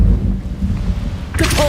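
An Incendio fire spell is cast in Hogwarts Legacy as a deep, roaring rumble that swells and settles. A brighter burst and a brief voice come in at the very end.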